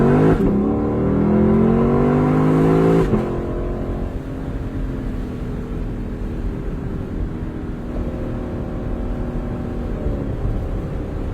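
A car engine with a 10-speed transmission revs up loudly to a sustained high pitch, then drops back to a steady idle-like drone with another brief rise near the end, heard alone.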